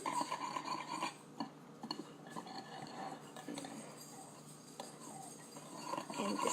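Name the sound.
mixing vanilla into a batter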